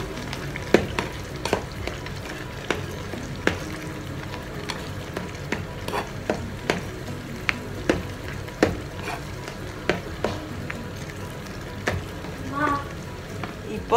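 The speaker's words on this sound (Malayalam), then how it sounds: "നന്നായിട്ട് ചേർത്ത് ഇളക്കി കൊടുക്കുക" Spices and turmeric being stirred into a curry frying in a pan, giving a steady low sizzle under scattered scraping clicks of the spoon, with no talk heard.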